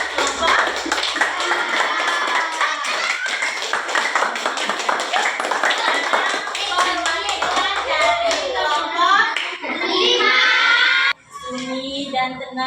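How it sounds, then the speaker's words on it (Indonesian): A class of children claps for group 4, a sustained burst of applause mixed with lively chatter and voices, the clapping fading as excited talk and shouting take over near the end. "Tepuk tangan untuk kelas 4."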